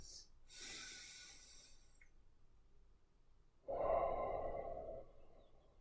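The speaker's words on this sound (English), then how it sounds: "deep breaths." Two slow, deep breaths during qigong practice, a soft drawn-out inhale followed by a fuller, louder airy exhale, close and alone with no talking.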